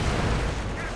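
A rifle grenade detonates in a combat video game, a loud, dull blast with a rumbling tail filling the whole brief moment.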